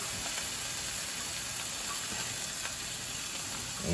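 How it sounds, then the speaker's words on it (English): Bacon fries in a hot pan, giving a steady, dense crackle and hiss of sizzling fat that carries on evenly throughout with no voices. "I'm going to fry up some bacon is what I'm going to do"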